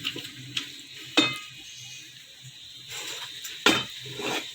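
Bell peppers tipped into a pan of fried potatoes bring a few sharp metallic clanks and scrapes over a light, steady sizzle, close by with quiet gaps between the knocks.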